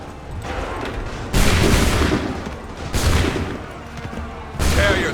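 A musket volley in Assassin's Creed 3 comes as three dense, booming bursts of massed gunfire spaced a couple of seconds apart, loud and close, with rumbling battlefield noise filling the gaps between them.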